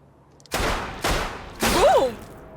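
Three sharp gunshots from a dubbed action film scene ring out at close range and evenly spaced, the last followed by a ringing whine.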